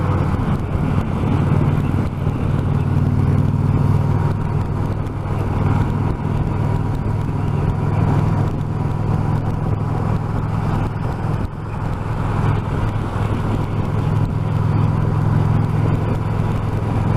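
A 2020 Indian Challenger bagger motorcycle is ridden along a road, giving a steady low engine drone with constant wind and road rumble for the whole stretch.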